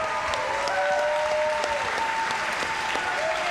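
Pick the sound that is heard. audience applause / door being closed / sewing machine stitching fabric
audience applause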